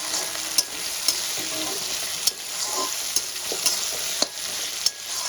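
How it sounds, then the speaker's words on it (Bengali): Chopped tomato frying with browned onions in a pan gives a continuous loud sizzle, punctuated every second or so by crisp spatula scrapes against the pan. "এবার আমি কেটে রাখা টমেটোটাও দিয়ে দেবো পেঁয়াজের সঙ্গে।"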